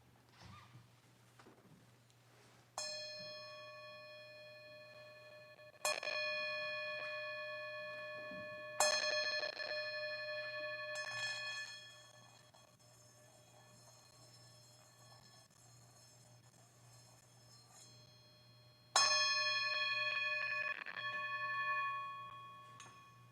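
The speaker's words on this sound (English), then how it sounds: "So I'm going to use this to ring the bell as a call to worship." A bell is rung as a call to worship at a church service: five clear, ringing strikes spaced several seconds apart. Each tone sustains and decays slowly over a low steady hum.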